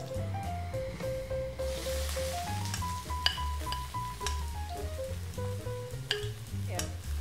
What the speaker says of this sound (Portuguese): Vou fritar um pouco esse alho e vou acrescentar 1 cebola grande